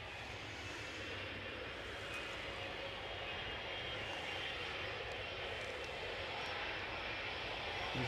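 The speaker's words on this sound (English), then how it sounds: "So we've got WestJet on the push for their return to Toronto." A WestJet airliner pushes back at Edinburgh Airport, its engines a steady, distant broadband roar and whine that holds evenly throughout.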